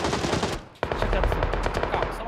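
Rapid automatic gunfire in PUBG: Battlegrounds, loud and close. A dense burst is cut by a brief pause, then another sustained rattling volley follows, with faint talking among players underneath.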